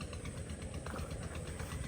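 A motorized fish-scaling machine works on fresh fish, giving a dense, continuous buzzing hum with a faint knocking vibration and no speech.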